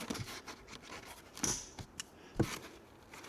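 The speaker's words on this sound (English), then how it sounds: "I'm just going to go through and snip those." Cable ties on a new electric tricycle being snipped, a few quiet, sharp clicks spaced apart amid faint handling rustles nearby.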